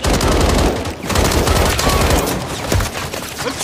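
Dense, loud enemy gunfire from a Call of Duty: Modern Warfare Kill Confirmed match on the Departure map, a continuous rattling automatic fusillade with overlapping shots and no pause.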